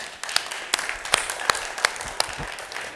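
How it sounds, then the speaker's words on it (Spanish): A church congregation applauds, a moderate crowd clapping in a steady patter with a few sharper claps standing out, heard from within the room without speech. "démosle un fuerte aplauso"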